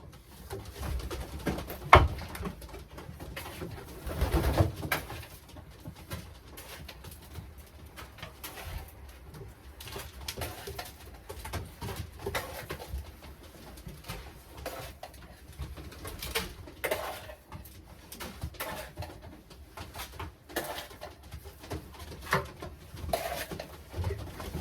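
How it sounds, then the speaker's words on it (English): Racing pigeons coo repeatedly while being fed a breeding seed mix with vitamins, soft throaty calls overlapping at close range with light pattering and clinks, no talk. "And then now we gonna feed the birds."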